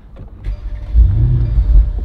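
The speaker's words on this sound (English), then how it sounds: "All right, we'll fire this sucker up." Mercedes S550 convertible engine starting up, a short crank followed by a low rumbling idle that settles in, close and fairly loud with no talking.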